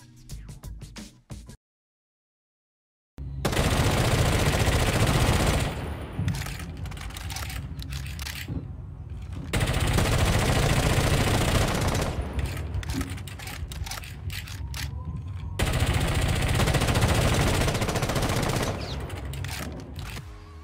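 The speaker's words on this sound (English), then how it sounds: "the test server Ashe recoil still goes up and to the right, but at a faster rate than the current Ashe" Ashe's rifle in the shooter game Rainbow Six Siege fires in several long, loud full-auto bursts of rapid, close shots, separated by brief silent gaps.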